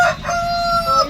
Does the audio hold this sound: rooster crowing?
yes